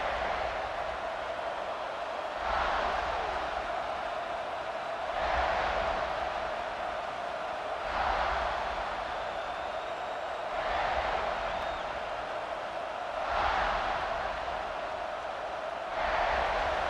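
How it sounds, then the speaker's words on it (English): A stadium crowd roars in EA College Football 26 as a broad, steady wash of noise that swells in regular waves every few seconds, like rhythmic chanting, with no one speaking over it. "This crowd bringing an ear-splitting welcome to their visitors."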